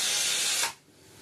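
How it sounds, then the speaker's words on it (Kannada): A pressure cooker cooking radish sambar lets out a loud, steady steam whistle hiss that cuts off abruptly after about two-thirds of a second, leaving quiet room tone. "ಇದು ಕುಕ್ಕರ್ ಒಂದು ವಿಸಿಲ್"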